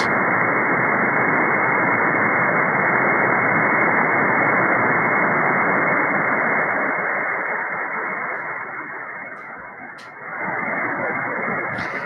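Steady broadband shortwave radio static hissing loudly and continuously while the bands are scanned, the noise dipping slightly near the end before returning.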